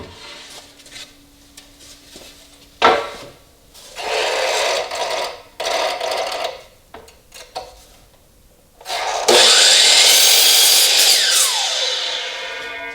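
Wood pieces for a rustic floating wall shelf frame are cut with a saw in several separate bursts of rough rasping, ending in a long, loud whining cut, close by and with no talking.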